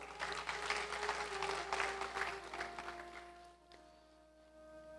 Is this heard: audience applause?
yes